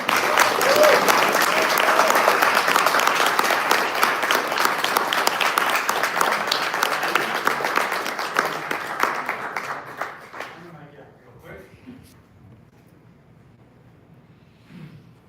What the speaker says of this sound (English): So we give a big round of applause for John.